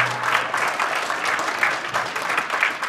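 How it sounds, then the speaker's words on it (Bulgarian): An audience at a Star Vocal Academy concert applauds with steady, lively clapping that fills the room for about three seconds. "Аплодисменти още веднъж."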